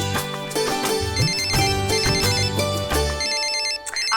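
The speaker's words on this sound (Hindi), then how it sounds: "आपके भाई का फोन है।" Phone ringtone in a Hindi TV drama: a loud, busy electronic melody repeats in quick cycles for several seconds, then cuts off near the end.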